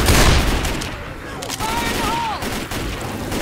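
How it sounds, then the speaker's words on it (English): Gunfire erupts in the zombie shooter Left 4 Dead, a dense burst of shots up front that eases into scattered reports, with in-game voices calling out over the chaos. "Watch where you're shooting!"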